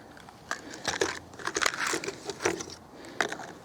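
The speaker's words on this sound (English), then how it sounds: "we're going to load 5 rounds of this CCI standard velocity" Rimfire CCI standard velocity rounds are loaded one at a time into a Remington 552 Speedmaster rifle, giving a series of small, close metallic clicks and scrapes at irregular intervals.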